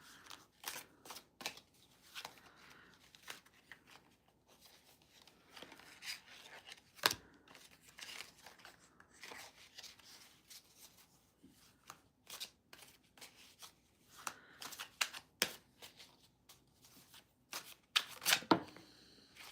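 Tarot cards being shuffled by hand, soft close riffling and rubbing flurries in irregular bursts with short pauses, quiet overall and without talk.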